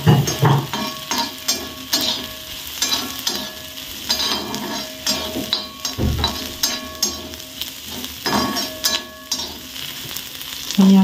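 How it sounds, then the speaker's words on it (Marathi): Onion roasting on a hot tawa griddle, a soft steady sizzle broken by scraping stirs and occasional clinks of a utensil against the pan, close and fairly quiet. "आधी पहिले कांदा तर भाजून घेऊ"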